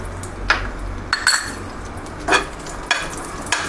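Raisins frying in ghee over a low flame, a quiet sizzle broken by several clinks of a spoon against the pan, close by and without talk.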